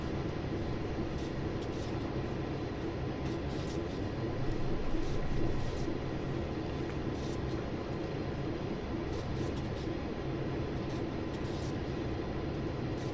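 A train runs along the Oakville Subdivision in Train Sim World 2, a steady dense rumble and rolling noise throughout with no pauses, swelling slightly midway.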